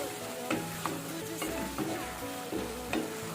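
A covered pot of potatoes boiling steadily, with a continuous bubbling churn and a few soft knocks and pops rising above it, heard up close.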